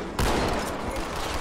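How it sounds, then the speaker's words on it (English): A grenade going off in the video game Halo 2: Anniversary: a sudden loud, rough blast with a crackling, gunfire-like rumble sustained behind it. "What in the fucking world is that noise?"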